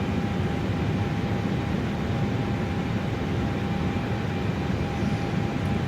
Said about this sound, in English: Airplane is warming up.